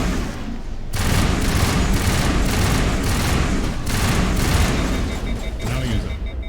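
Sustained gunfire and combat booms in the video game Mass Effect Legendary Edition, dense and loud after a brief quieter start, with bursts of shots layered over a continuous battle rumble.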